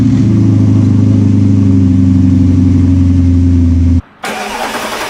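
An Audi R8 with an upgraded aftermarket exhaust fires up and idles loudly and close by with a deep, steady rumble. After about four seconds it cuts out abruptly, then a brighter broadband burst follows.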